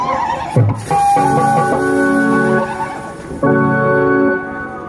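A horse whinnies loudly and close by, two long shrill neighs separated by a brief dip, heard during a Maithili folk theatre performance about a battle.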